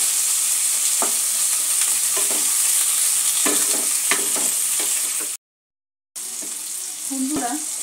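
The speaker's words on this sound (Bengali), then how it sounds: "বন্ধুরা, মূলো আর টমেটোটা আমি 1-2 মিনিট ভেজে নিয়েছি।" Chopped radish and tomato fry in a pan for spinach dal, giving a continuous sizzle broken by clinks of utensil stirring. A short dead silence cuts in partway, then the sizzle and stirring resume.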